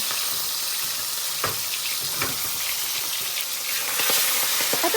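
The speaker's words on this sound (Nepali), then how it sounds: "माछा फ्राई गर्दा चाहिँ तेल चाहिँ उफ्रिने बानी चाहिँ साह्रै नराम्रो हो" Steady hissing sizzle of fish frying in hot oil, with scattered sharp pops and spatters throughout.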